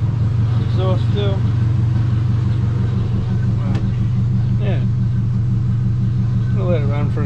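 A car engine idling steadily after a warm-up, a constant low rumble close by and continuous throughout, with someone talking over it at times.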